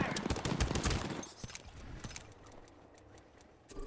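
Gunfire in the video game Apex Legends, a dense burst of rapid shots up front that thins into scattered cracks and then fades, with game noise underneath.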